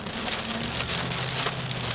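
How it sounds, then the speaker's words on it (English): Hail and heavy precipitation pound surfaces during a tornado-producing storm, a loud dense clatter with sharper impact bursts, close and continuous with no talking. "Oh, there's massive hail falling."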